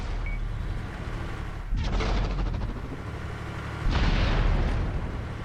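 Artillery fire in the World of Tanks console game lands as two heavy, close explosive booms a couple of seconds apart, each a sharp blast followed by a rumbling tail over a low background of battle noise.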